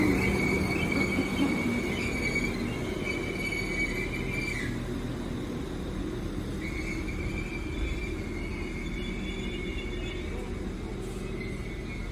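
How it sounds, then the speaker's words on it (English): A Northern train from Lincoln Central to Leeds runs past at Worksop, with a steady rumble of wheels on track and sustained high squealing tones that rise and drop away. "in the opposite direction is the 1410 Northern train service from Lincoln Central to Leeds"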